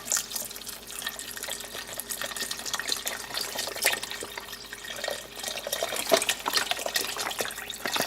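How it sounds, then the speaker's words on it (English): Mushroom broth poured into a cooking mixture in a pan, a steady splashing liquid stream lasting several seconds with scattered clinks and drips, close and continuous. "And we're also going to add our mushroom broth."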